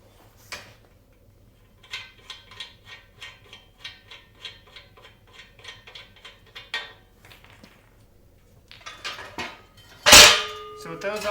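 Bottom fittings are unscrewed from a Harbor Freight Pittsburgh motorcycle wheel chock, giving a close series of quick ratcheting clicks in an even rhythm, then a few faster clicks and a loud clang of metal near the end.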